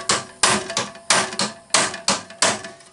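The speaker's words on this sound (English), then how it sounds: "cold chisel and a hammer" A cold chisel is struck with a hammer on the rivets of a shop fan, making eight sharp metallic strikes at an uneven rhythm, loud and close, each ringing briefly.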